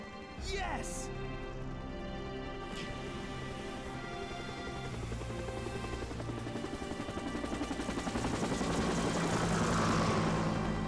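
A helicopter arrives in the video game Resident Evil 3 Nemesis, with a steady whirring rotor and engine drone that builds louder toward the end, under in-game dialogue and music.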